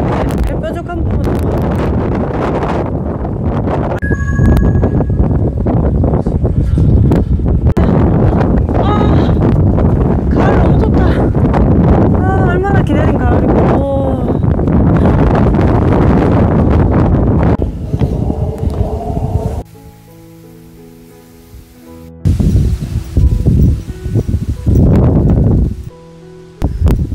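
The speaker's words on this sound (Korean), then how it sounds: "자동으로 바람이 계속 불어지네" Strong wind gusts across Hwangmaesan, a mountain of silver grass, buffeting loudly and steadily for about twenty seconds, dropping briefly, then surging again. People talk intermittently under the roar.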